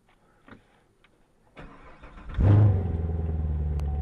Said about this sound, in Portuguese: Quero que vocês escutem o barulho do motor.